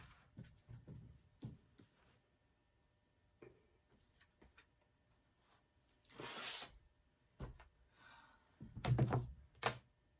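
Sewn quilt fabric squares for a Halloween table runner being cut, with a few short crisp snipping and slicing bursts separated by quiet stretches, close and fairly loud, with no talk.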